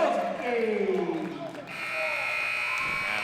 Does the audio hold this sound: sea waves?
no